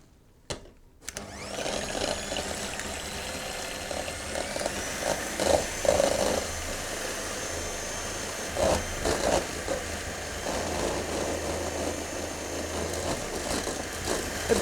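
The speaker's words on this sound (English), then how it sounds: "So I'm going to add the sugar while it's whisking." An electric mixer whisks egg whites while sugar is added for mini meringues, a steady whirring motor drone with a few brief rattles and changes in pitch, continuous and close, with no talk.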